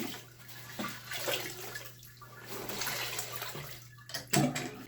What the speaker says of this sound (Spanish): La enjuaga normalmente y la tiendes, le saca todo el jabón.